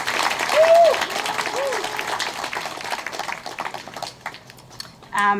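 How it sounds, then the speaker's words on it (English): A crowd at a Chinatown Fire Dragon Festival claps in scattered applause amid murmuring voices and a few whistles, fading toward the end, then a brief clatter. "help me give a special round of applause for the organizer, Stephanie Leo"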